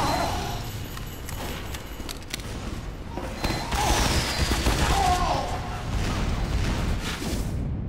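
Rapid sentry turret fire in Team Fortress 2, a dense run of sharp shots and clatter that builds midway and keeps going to the end, mixed with other game noise.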